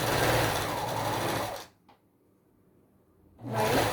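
A sewing machine stitches layered fabric in a loud, fast, steady mechanical whir up close, stops for about two seconds of near silence with a faint click, then starts running again.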